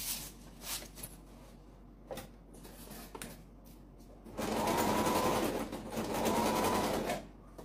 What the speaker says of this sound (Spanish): Vamos a coser, ¿sí?